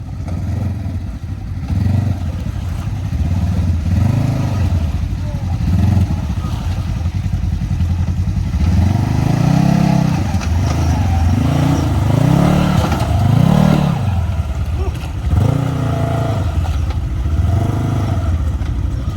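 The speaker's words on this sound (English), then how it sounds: "bought a Polaris General, and we wanted to test it out" A Polaris General side-by-side drives with its engine loud and close, revving up and down in repeated swelling surges over a continuous rumble and some rattling clatter.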